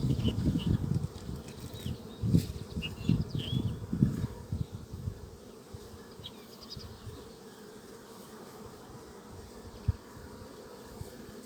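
Dense buzzing from many honeybees at a hive, loud and continuous at first, then thinning to a softer steady hum with occasional rustling.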